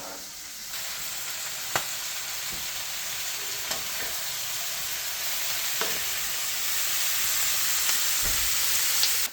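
Venison browns in a pan alongside peppers and onions on a camp stove. A steady loud sizzle runs throughout, broken by occasional sharp pops and utensil scrapes.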